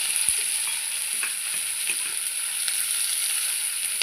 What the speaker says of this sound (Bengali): এবার ওই তেলে কুচানো পেঁয়াজগুলো দিয়ে দেবো।